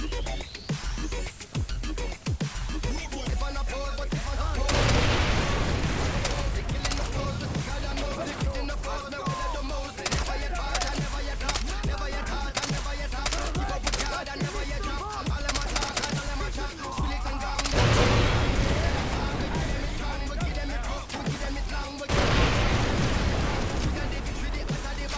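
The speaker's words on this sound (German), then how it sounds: "Also, komm, geben wir noch ein paar Schüsse." Gunshots and explosions in the shooter game Far Cry 3 go off as heavy, booming bursts at intervals, alongside sharper cracks and a near-continuous voice talking over the action.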